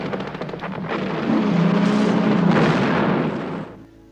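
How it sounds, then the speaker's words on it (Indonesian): A mortar blast levels a whole warehouse area in a war film about a raid for gold bars: a long, loud rolling roar with crackling debris that swells and sustains for several seconds before cutting off. "mortir meledakkan seluruh area gudang"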